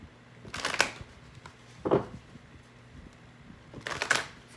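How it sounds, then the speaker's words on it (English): A deck of tarot cards is shuffled by hand in a quiet room, three short crisp riffling bursts spaced a second or two apart, with a faint background hum between them. "Having me shuffle a little bit more for you."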